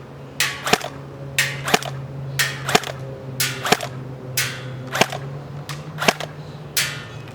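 A Tokyo Marui MP7 airsoft gun fires single shots at an outdoor shooting test, about ten sharp, snappy cracks spaced roughly evenly over seven seconds, close and loud.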